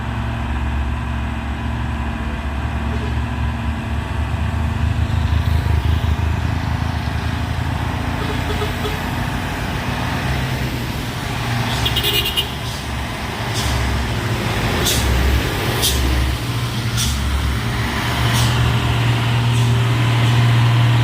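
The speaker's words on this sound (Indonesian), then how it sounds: "Truk Fuso orange." An orange Fuso truck labours uphill on a steep grade, its diesel engine droning loud and steady for a long stretch, with sharp hissing bursts like air brakes and other traffic passing nearby.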